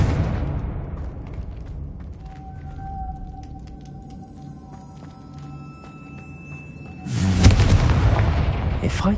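A Confringo spell explosion in the video game Hogwarts Legacy: after several seconds of quiet ambient tones, a sudden loud broadband blast hits and rolls into a sustained rumbling roar.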